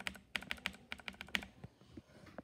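A mechanical keyboard key lubed with Vaseline and lotion is pressed repeatedly, giving about ten sharp, close clicks in a quick, uneven rhythm, then a few softer taps.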